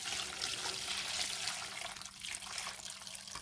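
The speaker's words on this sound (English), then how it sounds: "let's get to pouring some water" Water poured from a bucket onto a Dollar Tree product, a continuous soft splashing trickle with no talking.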